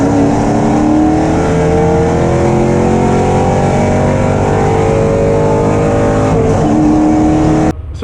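A Jeep's engine revs hard and loud through a drag race run, a steady climbing roar with rising engine pitch that dips briefly at a gear change near the end.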